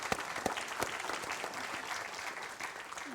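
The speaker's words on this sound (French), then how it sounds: "On vous applaudit encore pour vous remercier de votre présence." A room full of people at a biomass conference claps steadily, a dense patter of applause at moderate distance with no talking over it.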